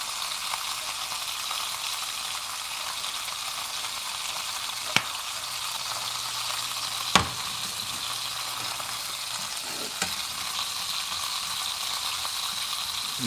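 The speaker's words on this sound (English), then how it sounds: "And break all this onions and sausage up." Onions and sausage fry in a pan with a steady close hiss and crackle. A few sharp clacks of a utensil stirring and breaking up the food come through, with no talking.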